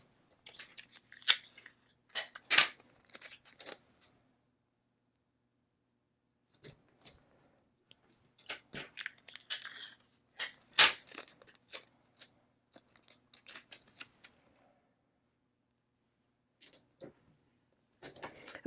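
Basic Scotch tape pulled from the roll, torn and pressed down onto leather, in several separate bursts of close crackling, ripping and rubbing sounds with quiet gaps between them, no voices.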